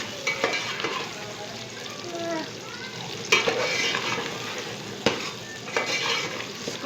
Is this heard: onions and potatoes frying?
yes